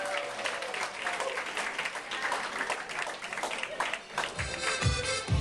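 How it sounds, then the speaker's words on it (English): Wedding guests applaud at the Ipswich Country Club, steady dense clapping filling the room for several seconds while a few voices and low music thuds sit underneath near the end. "How about one more big round of applause for coming out to the Ipswich Country Club."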